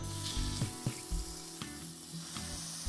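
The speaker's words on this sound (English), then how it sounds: "We're gonna use some canola oil. High heat, high heat. Like I said, we really want to sear the meat." Beef patties for a double patty burger searing in canola oil over high heat, a steady close sizzle and fry hiss with a few sharp pops and spatters, no voices.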